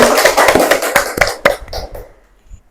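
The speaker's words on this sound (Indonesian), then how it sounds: "Tepuk tangan buat Mas Atalah semuanya." Scattered clapping from a small audience at a student informatics talk show, a handful of sharp, uneven claps close by that thin out and stop after about two seconds.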